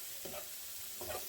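Onions sizzling in a pan alongside pork chops, a soft steady hiss with two brief stirring sounds, faint and close.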